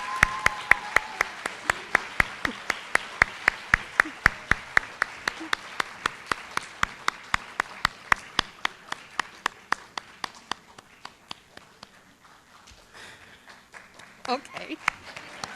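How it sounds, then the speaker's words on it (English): At a Lawton Public Schools celebration, an audience claps as students return to their seats, with crisp, steady, rhythmic claps that gradually thin and fade out, followed by scattered faint rustling. "we're just going to keep clapping until they sit down"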